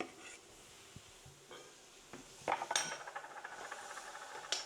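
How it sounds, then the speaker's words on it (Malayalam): A spoon stirs okra, tomato and other vegetables for a curry in a pan, making sparse metallic clinks at first and then a denser burst of scraping and clatter, close and fairly quiet. "എല്ലാ വെജിറ്റബിളും ചേർത്തൊന്ന് ഇളക്കി"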